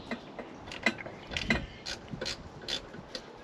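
Ratchet wrench clicking in short bursts while undoing the last few bolts holding a turbo on a car engine, close and moderately loud with metallic ticks and small knocks between pauses.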